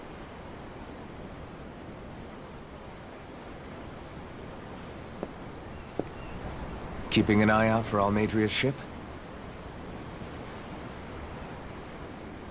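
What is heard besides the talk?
ocean waves in a video game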